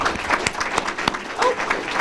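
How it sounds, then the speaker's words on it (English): An audience at an outdoor historic-places ceremony breaks into a short burst of applause, dense clapping close by, lasting about two seconds. "Let's give her a round of applause."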